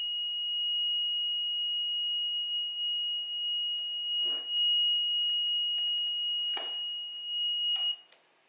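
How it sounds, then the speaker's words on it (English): An IC3 ion chamber survey meter sounds a steady continuous high-pitched alarm tone that runs nearly the whole time, with faint handling clicks, before cutting off at the end. "the IC3 will also alarm if the beta window is only partially open"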